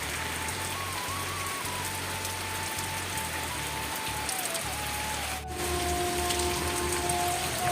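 Steady rain falls outside in a rural Odisha village, making a continuous, even patter and hiss with a faint tonal hum running beneath it.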